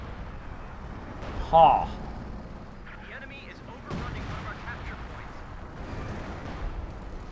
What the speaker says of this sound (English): Mortar firing down there.